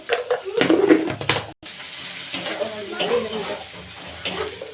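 Onions frying over a high flame in a pan, a loud close sizzle with scraping stirs and clatter from the utensil, a brief cut near the start, then steady crackling with occasional knocks.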